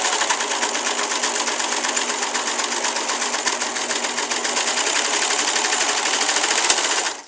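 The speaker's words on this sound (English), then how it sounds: "This is what I love about the serger, is that you can actually fix your mistakes without having to redo it." A serger sewing machine stitches a cloth pad in a fast, even, continuous whirring rattle, loud and close, running alone without talk before cutting off abruptly at the end.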